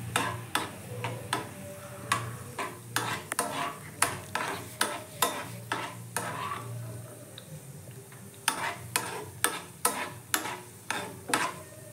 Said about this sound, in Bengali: এবার কড়াইতে একটু তেল দিয়ে কাজু বাদাম অল্প ভেজে নিলাম